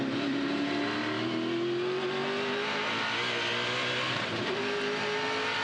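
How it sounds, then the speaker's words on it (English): A touring race car engine roars steadily at high revs down the straight, its pitch climbing as it accelerates, loud and close throughout with no talking, at an Adelaide race. "Let's have a listen to Cricky down the straight here"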